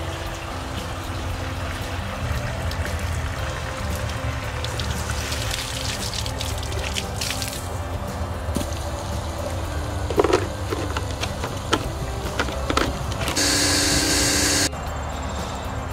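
Water pours steadily into a Chapin 97700 25-gallon 12-volt EZ Tow dripless sprayer tank, filling a continuous rushing wash that shifts and brightens near the end, with occasional splashes.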